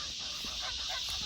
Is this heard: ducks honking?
yes